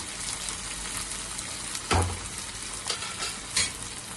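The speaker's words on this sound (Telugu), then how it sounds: "ఇది ఆయిల్లో మంచి వేగాలి." Fish pieces frying in oil in a pan for a raw mango fish curry, a steady close sizzle with a few scraping stirs, one heavier clatter near the middle, no talking.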